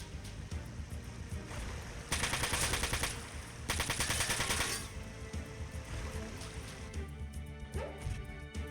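Enemy gunfire in the mech video game Front Mission 4, with two loud, dense bursts of rapid automatic fire, each lasting over a second, set against a steady game soundscape, followed by quieter ambient sounds.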